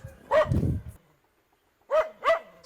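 Dogs bark nearby outdoors: one bark, then a quiet gap, then two quick barks in a row, with no talking.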